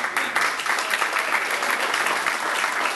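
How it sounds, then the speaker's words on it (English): A crowd at a political speech claps steadily and loudly, the applause sustained and dense from start to finish with no voices rising above it. "get a clap buddy. That's someone claps for you when you hit a high point."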